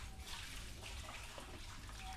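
Water being siphoned out of a fish tank holding newly hatched fry and leftover artemia shells, a steady close trickling and gurgling flow that runs unbroken throughout.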